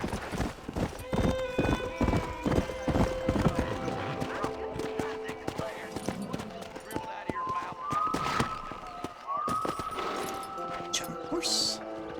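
Horse hooves clip-clopping at a steady pace in the Red Dead Redemption western game, followed by a couple of rising whinnies near the end, with game music and faint talk underneath.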